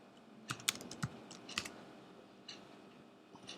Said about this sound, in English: Go ahead and hit login and type in your credentials.